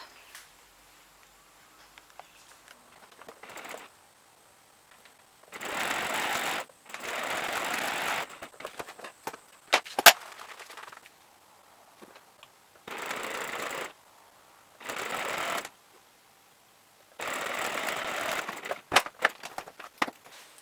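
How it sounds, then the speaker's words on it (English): Sewing machine stitching a quilt made from a bunting panel, running in several bursts of steady, rapid stitching, each lasting a second or two, with quiet pauses and small handling noises between. "I'm taking it back over to my sewing machine and sewing it up."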